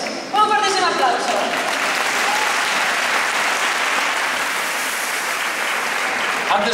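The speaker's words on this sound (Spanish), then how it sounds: "Un fortísimo aplauso." An audience at a charity music festival in O Grove applauds steadily and loudly, a dense wash of clapping that carries on without pause from start to finish.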